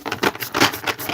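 Playing cards are shuffled by hand in a quick series of rustling, flapping bursts, about four or five in a little over a second, heard close up.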